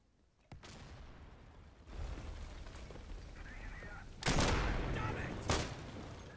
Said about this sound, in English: carpet bombing right in front of us